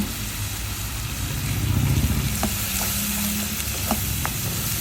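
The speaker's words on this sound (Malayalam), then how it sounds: "ഇതിനകത്തോട്ട് നമ്മൾ അരച്ച് വെച്ച സവാള വറുത്തതിൻ്റെ പേസ്റ്റ് ഇട്ട് കൊടുക്കാം. അതും ഇതിനകത്ത് കിടന്ന് ഒന്ന് വഴന്ന് വരണം." Fried onion paste and ginger-garlic paste are sautéed and stirred in a pan for a Kerala-style mutton curry. A loud, continuous sizzle runs throughout, with a few faint utensil taps against the pan.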